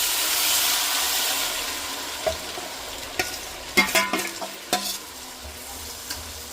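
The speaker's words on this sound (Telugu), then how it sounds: "గరం మసాలా మొత్తం మిశ్రమాన్ని వేసుకొని ఫ్రై చేసుకోవాలి" Garam masala mixture and leftover chicken marinade frying in butter for Afghani chicken gravy: a broad sizzle that fades, then several close clanks and scrapes of a spoon against the pan, with no voices.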